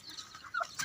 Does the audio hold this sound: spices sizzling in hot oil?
no